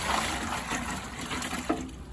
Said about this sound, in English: Scoop you some water.